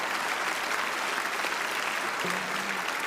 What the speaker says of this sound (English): Round of applause for Carmel